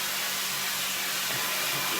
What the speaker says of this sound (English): Excuse the noise. She's cleaning her cookie sheet.